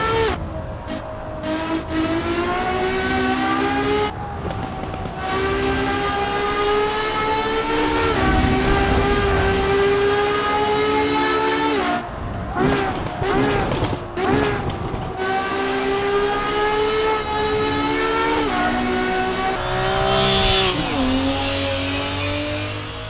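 Loud, high-revving racing car engine in Assetto Corsa Evo climbing through gears, with brief drops between shifts and a constant whining drone, close and continuous.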